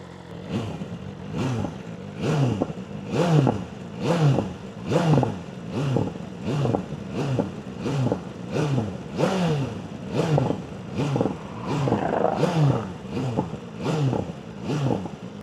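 A BMW M1000RR motorcycle with a loud aftermarket exhaust idles high and revs in repeated rhythmic bursts, each rev rising and falling roughly every second, close and alone with no talking.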